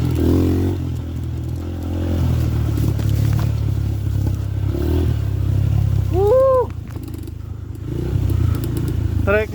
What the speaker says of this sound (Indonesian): Seru lah pokoknya nih motor.